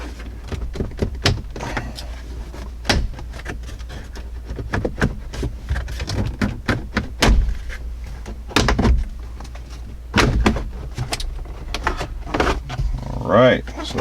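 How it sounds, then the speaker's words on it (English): Dash bezel prised out of a Jeep Wrangler JK, a series of sharp plastic clicks, pops and rattles at close range, with a person talking throughout. "The dash should just pop right out"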